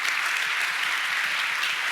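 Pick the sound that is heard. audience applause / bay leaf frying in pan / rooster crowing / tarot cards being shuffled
audience applause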